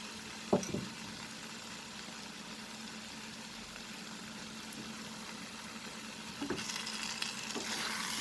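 Soya keema frying with masala spices in a pan, a soft continuous sizzle with a couple of spoon knocks near the start and louder stirring scrapes toward the end.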